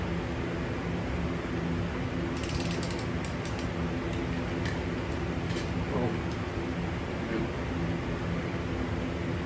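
Bolts being tightened with a ratchet while rebuilding an X3 motor, rapid clicking pawl bursts and faint creaks over a loud steady background hiss, with people talking nearby.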